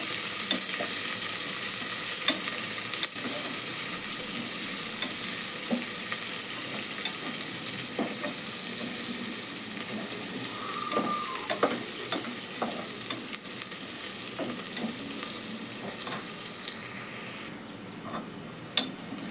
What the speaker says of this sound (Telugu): గోల్డెన్ కలర్ వచ్చే వరకు మీడియం ఫ్లేమ్లో పెట్టుకొని ఫ్రై చేసుకోవాలి